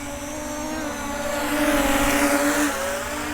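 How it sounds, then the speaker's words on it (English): Holystone HS720R 4K camera drone flying at full speed in sport mode, a steady loud whirring buzz of propellers with rising and falling pitch as it whips around corners, no talking. "So it's a good looking drone while it's flying."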